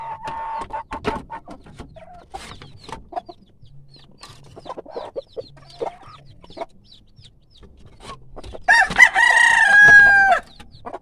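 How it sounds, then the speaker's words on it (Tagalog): Chickens cluck and call around a farm coop, sparse at first, then a rooster lets out a loud, close crow near the end. "Ito na yung mga alaga kong mga manok."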